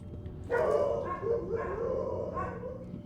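Dogs bark and snarl in a PC horror adventure game set at a remote cabin, a fairly loud cluster of rough barks starting after half a second and continuing in uneven bursts over a low background rumble.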